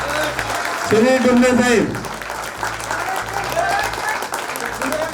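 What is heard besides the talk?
audience applauding loudly at a meeting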